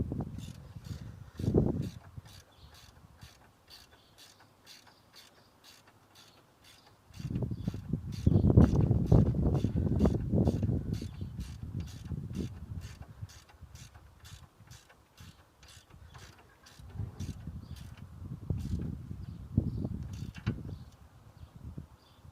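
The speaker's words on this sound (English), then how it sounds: "Just slot it back in and then just do the nut up nice and tight." A spanner tightens a track rod end locking nut on a 2015 Vauxhall Corsa, producing close mechanical ratcheting and creaking clicks in bursts with quiet pauses between them, and no talking.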